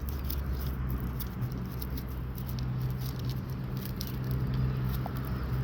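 A large mud crab digs into its burrow, making a steady, close, soft scratching patter of claws working through wet mud, with no voices.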